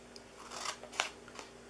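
Scissors make a few quick, close snips through the paper sides of a gift box, with soft crisp cuts landing in a brief cluster.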